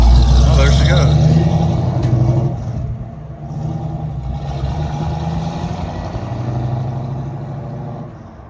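A 1969 Chevrolet Camaro RS/SS convertible drives off, its engine loud and close at first, then fading into a lower, more distant rumble, with people talking over it.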